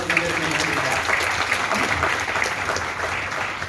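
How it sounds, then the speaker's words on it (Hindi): Audience applause at a Vestige business live event in a meeting hall, a steady dense clapping wash held throughout, with a voice speaking faintly over it. "एक बार तालियां जाऊंगा सौरभ सर के लिए, शानदार।"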